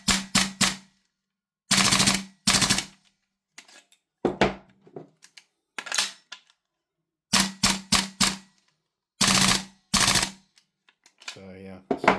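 A DE Noveske Ghetto Blaster airsoft gun fitted with a slightly stronger stock spring firing short full-auto bursts, sharp rapid clatters separated by silences, close and loud, with a few quieter clicks and handling knocks in between.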